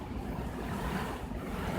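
Gusting wind during a storm in tornado alley, blowing through trees as a continuous broadband roar with a low rumbling buffet, close and fairly loud, with no talking.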